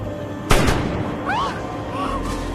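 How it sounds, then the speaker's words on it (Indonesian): A single sharp sniper gunshot in the film Shooter, a loud close crack with a rolling tail, followed by faint whooshing and whistling effects over a low rumbling background. "di mana serangan sniper anak buah Ishak terjadi"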